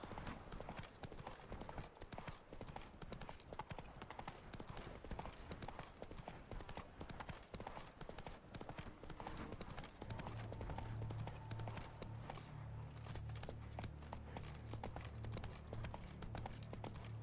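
Geralt's horse Roach trots in the Witcher 3 game, her quiet, steady hoofbeats clip-clopping continuously while a low hum of game ambience rises later on.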